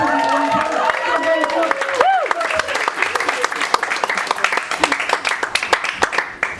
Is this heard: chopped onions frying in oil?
no